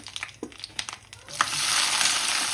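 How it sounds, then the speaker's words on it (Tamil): Onions added to a hot pan with mustard seeds and urad dal, a few scrapes and clatters giving way to a loud, steady frying sizzle that fills the second half. "நான் இந்த டைம் இப்போ வெங்காயத்தை சேர்க்கிறேன்."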